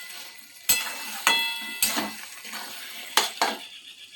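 Taro greens with spices being turned in a pan, giving five or six sharp clinks of a utensil against the metal, spaced irregularly and close by, with no voices.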